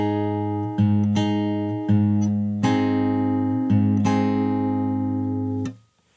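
Fingerstyle acoustic guitar slowly picks one bar of a song, six plucked chord onsets ringing into each other at a steady, unhurried pace before the last notes are damped.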